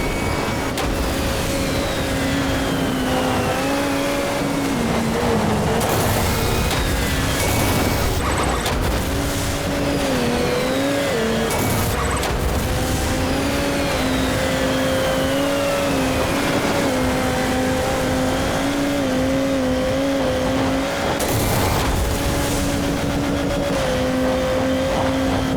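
A car engine roars in the Motorstorm Monument Valley racing game, its tone rising and falling steadily for over twenty seconds, loud and continuous, with brief bursts of other noise.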